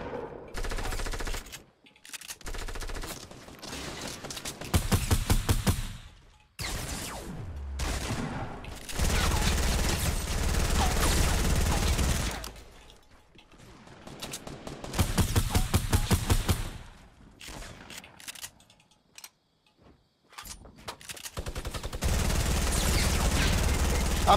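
Fortnite battle royale gunfire: long bursts of rapid, loud automatic shots in clustered volleys separated by short pauses, continuing through most of the stretch, with occasional player voices mixed in.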